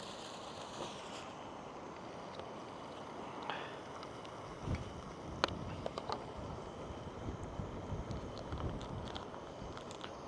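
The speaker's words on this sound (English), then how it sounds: "It was just far too windy." Strong coastal wind at Sand Point buffeting the microphone, a continuous roaring rush with scattered gusty bumps and small knocks, no voices.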